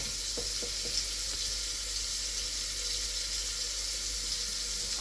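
Water runs from a kitchen tap fed from the mains stop tap, a steady hiss of flow with faint clinks underneath, continuous and close, no voices.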